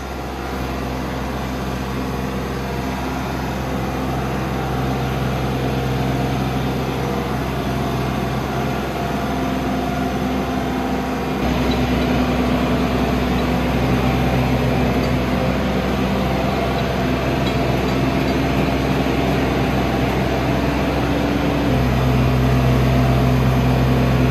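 Weidemann T4512 telehandler running its hydraulics while pushing its wheels against a barrier: a loud continuous engine drone with a hydraulic whine whose pitch steps up and down as the load changes, with no talk.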